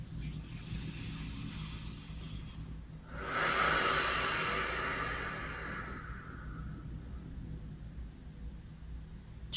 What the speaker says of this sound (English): Start to bring your hands together to touch. Sometimes I like to rub them a little bit